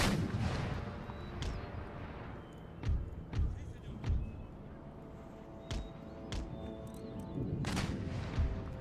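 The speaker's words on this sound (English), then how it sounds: "Howitzers are firing round shot" Howitzers firing round shot in the video game Empire Total War, heard as several heavy booming cannon reports spaced irregularly over a rumbling battle background, some distant and some nearer.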